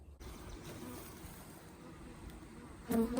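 Honey bees buzz around hives in a blooming cotton field on a hot summer day, a steady close drone that fills the whole stretch and swells slightly near the end.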